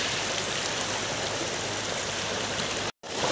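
Hillside stream of water pouring steadily down from above in a morning jungle river setting, a continuous near, loud rushing flow with no talk, broken only by a brief gap near the end.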